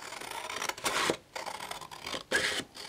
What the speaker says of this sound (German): Wir schneiden zuerst die Seiten ab.